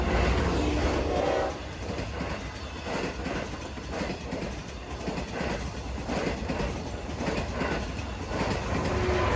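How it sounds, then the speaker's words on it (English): A Long Island Rail Road Montauk Branch diesel train rolls past close by. Its heavy engine roar comes with rhythmic clickety-clack from the wheels over the rail joints, loud throughout and easing slightly after the first moments. "Next, we see Montauk Branch Train number 6010 pass through on its way to Montauk."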